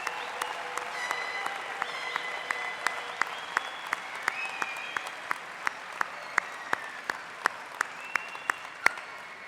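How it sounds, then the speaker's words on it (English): A graduation commencement audience applauds the new graduates with steady, sustained clapping from a large crowd, with a few sharper claps standing out. "Please join me in one more round of applause congratulating today's graduates."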